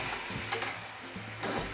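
Radish fry being stirred in a pan, a soft continuous sizzle with a few sharp spatula scrapes and taps against the metal, close and fairly quiet.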